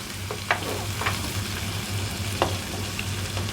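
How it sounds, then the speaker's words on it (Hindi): Chopped onions frying in the same oil used for bitter gourd, a steady gentle sizzle with an exhaust fan humming underneath and a few faint clicks of stirring, no talking. "उसी तेल में मैं प्याज डालती हूँ और इसको भी कर लेंगे फ्राई।"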